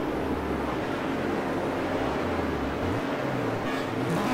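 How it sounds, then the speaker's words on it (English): Race car engines rev together on the starting grid of a 1985 New Zealand touring car race at Teretonga, a loud dense roar with low droning pitches shifting up and down. "We can hear the engine revs rise."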